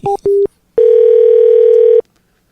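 Two short telephone beeps are followed by a steady, loud electronic dial tone held for over a second before cutting off, heard alone as a call to a cell phone is placed.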